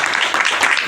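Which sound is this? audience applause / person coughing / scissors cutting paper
audience applause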